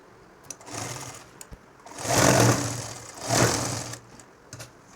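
A home sewing machine stitches a nightdress in two sustained mechanical bursts with short pauses between, close and fairly loud, with quiet handling noises around them.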